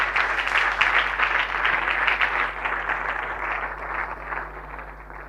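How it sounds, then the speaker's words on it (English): A church congregation claps hands in praise, a steady dense wash of applause that holds loud and even before slowly thinning toward the end. "Clap your hands and praise the Lord."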